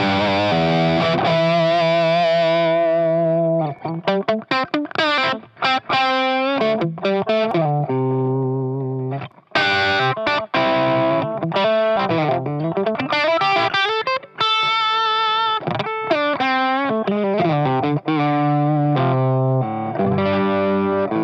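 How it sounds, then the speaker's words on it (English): Electric guitar played through a GuitarSlinger 87 MKIII distortion pedal, thick sustained distorted chords and singing lead notes with bends, loud and continuous with brief pauses between phrases, no talking. "This pedal sounds like my amp."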